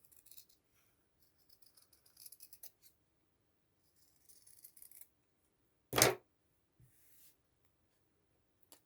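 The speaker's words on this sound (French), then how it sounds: "on va prendre les ciseaux et à 2 mm du bord, hein, hop, voilà, on va découper la demoiselle." Scissors snipping around a small fabric figure, faint close crisp cuts in short clusters with pauses, followed by one louder thump and a few soft handling sounds in a quiet room.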